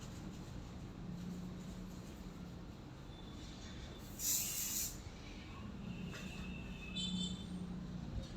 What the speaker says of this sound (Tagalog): gagamitin natin yung styling spray ni Brevod Premium 做一个局部的定型。